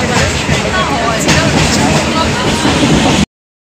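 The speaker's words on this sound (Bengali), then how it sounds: "চলো গাইস শিয়ালদা থেকে ট্রেনে উঠে পড়েছি।" Passenger train leaving Sealdah, a loud continuous rattling rumble for a few seconds, heard from inside the carriage.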